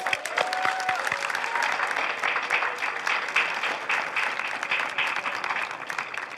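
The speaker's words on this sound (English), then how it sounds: "A round of applause, please." An audience at an eighth-grade moving-on ceremony at Kennedy School breaks into sustained applause, dense clapping from a crowd that holds steady throughout.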